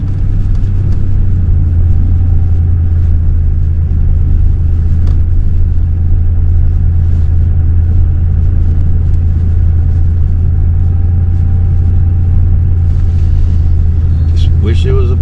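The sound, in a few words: four-wheel-drive vehicle driving along the beach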